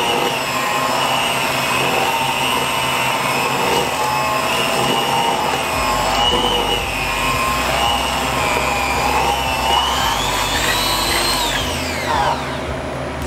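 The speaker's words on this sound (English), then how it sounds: "We are now done with our mixer" An electric mixer beating chocolate chip cookie dough, a steady whirring motor hum with a shifting whine, running continuously for over ten seconds and then winding down, with no talk.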